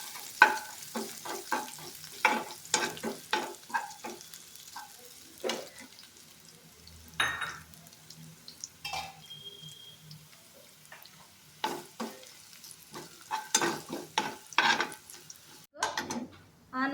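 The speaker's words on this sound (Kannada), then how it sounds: "ಆಲ್ರೆಡಿ ಮಾಡಿಟ್ಟಂತ ಜಜ್ಕೊಂಡಿಟ್ಟಂಥದ ಬೆಳ್ಳುಳ್ಳಿ, ಸ್ವಲ್ಪ ಕೆಂಪು ಆಗುವವರೆಗೆ ಹುರ್ಕೋಬೇಕು." Crushed garlic frying in oil until it turns reddish, with intermittent stirring scrapes and clinks over a faint sizzle, punctuated by quiet pauses.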